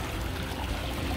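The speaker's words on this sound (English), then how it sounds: "You have the glass with the waterfall jacuzzi. You have the water features, the bubblers." Water pours steadily from a pool waterfall jacuzzi and water features at a modern home, making a continuous, fairly close splashing rush with no talk.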